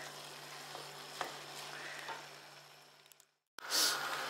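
Seafood stir-fry noodles being stirred in a hot pan, giving a steady sizzle with scraping strokes, then a brief silence before a louder burst of frying.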